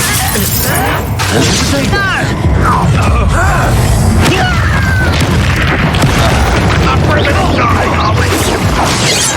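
A fire spell cast during spell combat in Hogwarts Legacy bursts with loud crackling and booming impacts over a constant din of battle effects, with a voice talking throughout.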